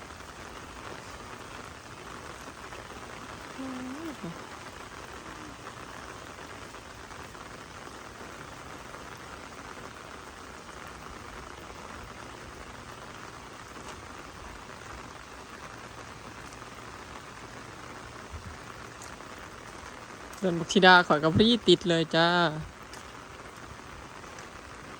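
Heavy rain falls steadily on a Thai garden plot with newly planted seedlings, a soft continuous hiss running throughout. Someone speaks briefly over it, and a louder burst of splashing or rustling comes near the end.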